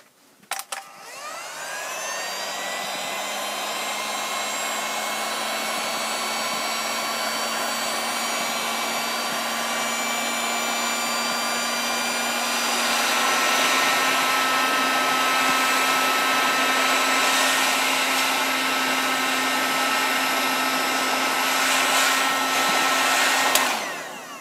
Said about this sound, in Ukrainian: Ось таким феном.